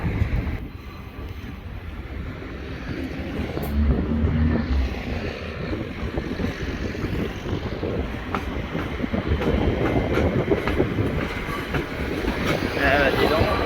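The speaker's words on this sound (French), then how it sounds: "je la vois partout cette tram" A tram rolls past close by near its depot at Val d'Argenteuil, a steady broadband rumble and rail noise lasting throughout, with brief voices mixed in.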